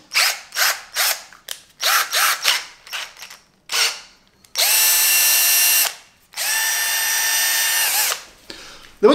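A cordless 12V Tacklife PCD01B drill whirs in two sustained bursts of a few seconds each, preceded by a series of short clicks and brief trigger pulses, close and loud.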